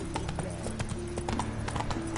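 Roach the horse's hooves clip-clop steadily at a brisk walking pace in The Witcher 3, close and clear over a low droning game ambience.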